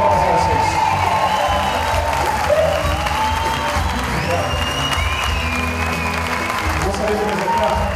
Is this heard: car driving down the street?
no